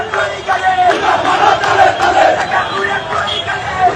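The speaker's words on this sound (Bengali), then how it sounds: "ওনার সমর্থকেরা রাস্তা অবরোধ করে বিক্ষোভ করতেছে, দেখেছেন স্লোগান দিচ্ছে" A crowd of protesters blocking a road chants slogans in loud, rhythmic bursts of many voices shouting together, rising and falling repeatedly.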